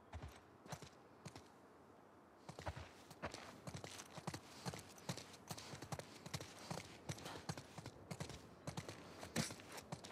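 Horse hooves clip-clop on the ground in The Last of Us Part II, a steady walking rhythm of sharp knocks with a few brief pauses, fairly close and clear.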